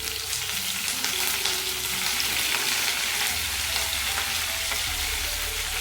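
A bunch of curry leaves drops into hot oil with garlic and roasted ingredients while making tamarind rice, and it crackles with a loud, steady sizzle. Low stirring scrapes run throughout, with no talking.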